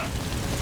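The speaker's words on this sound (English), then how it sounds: "The sound of rainfall should help to mask your footsteps." Steady video game rain from Metal Gear Solid V: The Phantom Pain pours down in a dense, even hiss with no pauses, close and fairly loud throughout.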